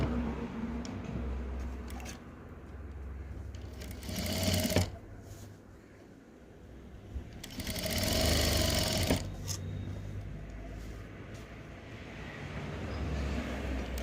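A sewing machine stitching a V-neck kurti whirs in steady close bursts, with a brief pause between runs and a faint background hum.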